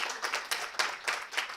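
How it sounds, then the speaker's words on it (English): An audience applauds at a tech summit on sustainable AI, the clapping rising and falling in uneven waves. The sound is moderately close, with no talking over it. "A round of applause for him, please."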